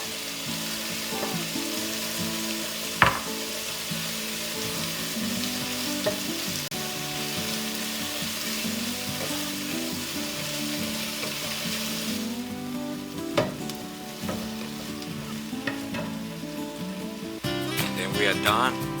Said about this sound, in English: Continue stir frying.